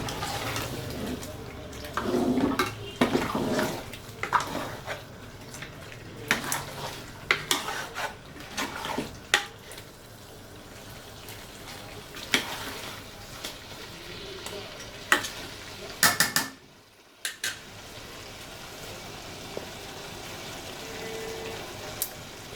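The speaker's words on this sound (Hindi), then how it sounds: "मैंने डाल के एक दफ़ा आपके सामने चमचा चलाया है" A spoon stirring fish curry in a pan while it sizzles and fries steadily, with scattered scrapes and clinks against the metal and one brief pause, close and continuous with no talking.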